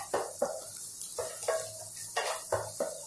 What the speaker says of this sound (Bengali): আদা কুচিটা দিয়ে বেশ ভালো করে একটুখানি নাড়াচাড়া করবো